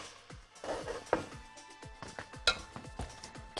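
A cooking pot of maqluba with bird's-tongue pasta is flipped over in a kitchen, with metallic clatters and knocks of pot and utensils ringing out in a quick irregular series.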